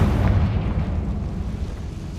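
A Confringo fire spell bursts in Hogwarts Legacy, a loud low explosive boom right at the start that rumbles on at a steady roar to the end, with no one talking.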